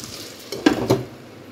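A tomato frying in a pan gives a soft sizzle, punctuated by two quick stirring scrapes near the middle, close and fairly quiet.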